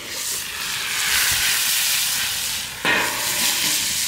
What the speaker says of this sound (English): Okay, so we've got that butter sizzling real good.